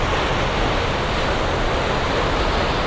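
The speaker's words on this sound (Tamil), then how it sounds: "தண்ணி போய் கொண்டிருக்கு" Water flows out of Unnichchai tank, a reservoir in Batticaloa, as a loud, continuous, broadband rushing roar that holds steady throughout with no breaks, close to the listener and with no voices.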